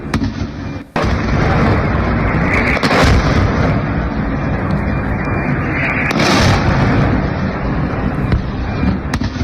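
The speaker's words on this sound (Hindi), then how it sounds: "इजराइल में एक और धमाका हुआ" An Iranian missile explodes in Israel: a loud blast erupts, followed by a sustained, roaring rumble that stays heavy and dense for several seconds.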